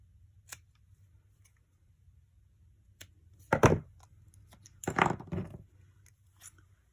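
Scissors cutting leather pieces for earrings make two short, crisp crunching snips in an otherwise quiet room, with a few faint clicks between them.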